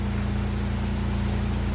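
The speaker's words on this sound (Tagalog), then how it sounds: "lumalakas na ang ulan guys" Dense, even hiss of heavy rain falling outdoors at a bed and breakfast in Infanta, Quezon, a constant close wash of sound with a low steady hum underneath and no voices.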